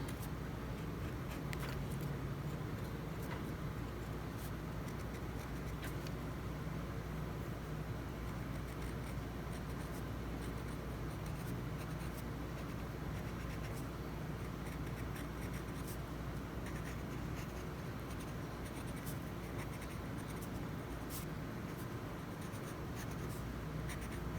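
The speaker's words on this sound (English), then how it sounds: "pick up our pencil and start with a couple of different pressures" Pencil strokes on paper while drawing a raspberry texture, using varied pressures and small back-and-forth motions: close, quiet continuous scratching with frequent faint tapping ticks, heard alone with no talking.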